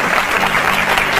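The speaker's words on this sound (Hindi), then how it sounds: "तालियां बजाइए देखिए उनके लिए" Loud, dense audience applause, a continuous wash of many hands clapping close by, lasting about a second with a faint crowd murmur beneath.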